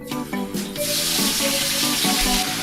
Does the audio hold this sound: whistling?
no